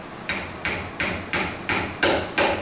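A hammer drives nails into a wooden nail block in a shop, seven sharp evenly spaced strikes about a third of a second apart, close and clear with no voices.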